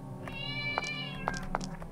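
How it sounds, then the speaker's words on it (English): A cat meows in the horror video game Mad Father, a thin drawn-out cry followed by a couple of short, sharp meows over a low, droning game ambience. "I hear a cat"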